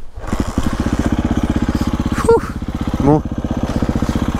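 An enduro motorcycle engine catches on its electric starter and settles into a loud, close, rhythmic idle with a couple of brief revs; a voice speaks briefly.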